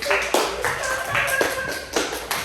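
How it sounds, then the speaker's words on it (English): A class giving a round of applause, a few bursts of clapping with hand taps over the short stretch, close and fairly loud. "Round of applause."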